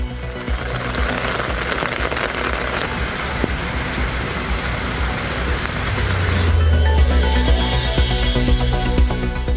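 Heavy rain pours down in Ariyalur district, Tamil Nadu, as a dense, loud, continuous roar of falling water that deepens and grows heavier partway through.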